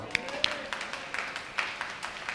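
Congregation at a church service clapping, a short run of uneven handclaps, fairly faint, with a voice continuing over them.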